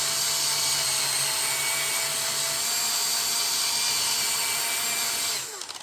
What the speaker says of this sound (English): I use these in my drill.